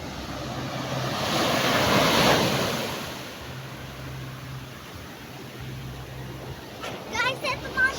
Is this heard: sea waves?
yes